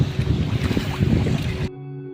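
Boat engines rumble with a steady low drone and wind buffeting on the sea in cold December weather, loud and close, then cut abruptly to a faint hum near the end.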